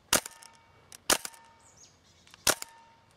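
A Tippmann M4 airsoft rifle fires BBs in three sharp, snappy shots spaced about a second apart, each a crisp broadband crack with a short tail, close by and with no talking.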